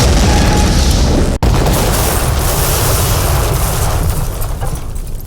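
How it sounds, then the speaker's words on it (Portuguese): Fireworks explosions staged for a film shoot, a loud, continuous booming roar that fills the whole stretch, with one brief dropout near the start and a slight fade toward the end. "E nada melhor do que numa grande festa de despedida do que haver fogo de artifício."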